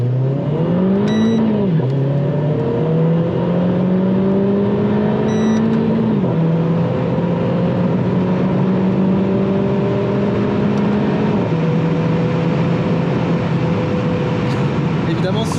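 A Renault Clio 4 RS with a stage 3 tune revs and accelerates hard on a closed road, its loud engine note climbing and shifting through gears in a long continuous pull close to the car.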